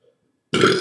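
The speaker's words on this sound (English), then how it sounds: "Oh, burping hurts." A single loud, throaty burp bursts out after a short near-silence, coming from a person who has just eaten a fresh Bhut Jolokia ghost pepper; it sounds close and lasts about half a second.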